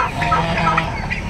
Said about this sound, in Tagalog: upgraded turkey line ng Ambaking Pabo Farm